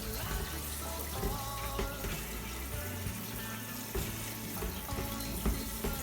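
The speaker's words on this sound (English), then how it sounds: "I'm just running the rice under the cold water" Rice rinsed under a cold running kitchen tap, a steady close splashing and gushing of water with shifting gurgles as the grains are stirred in the stream, with no talk.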